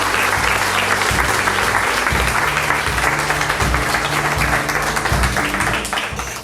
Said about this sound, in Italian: farei un altro applauso a tutti i partecipanti